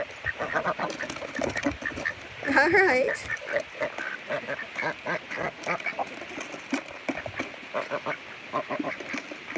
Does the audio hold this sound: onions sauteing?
no